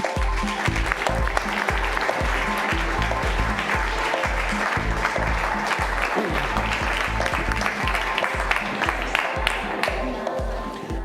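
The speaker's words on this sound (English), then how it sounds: "please join me in a round of applause and welcome Don Tapscott." An audience at a blockchain conference gives a sustained round of applause for a keynote speaker, dense clapping filling the room steadily for around eleven seconds.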